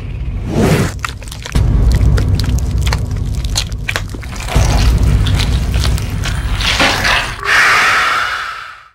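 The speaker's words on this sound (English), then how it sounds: "And you blow him up with a rocket launcher" In a console video game, a rocket launcher blows up the Tyrant boss on a helipad with a series of loud, booming, crunching explosions and rumbling blasts, ending in a hissing roar.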